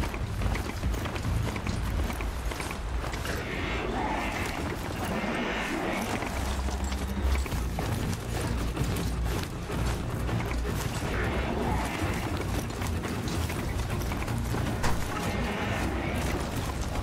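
A horse-like machine mount gallops steadily in Horizon Zero Dawn, its hooves beating a rapid, continuous clip-clop rhythm with mechanical clanking, loud and close throughout.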